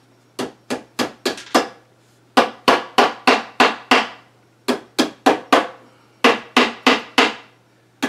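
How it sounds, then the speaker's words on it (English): A hammer taps a screw head into an IKEA Pax closet drawer in quick bursts of four or five sharp, ringing knocks, each group separated by short pauses, close and clear with a faint steady hum behind. "I'm going to tap that one into place with the hammer"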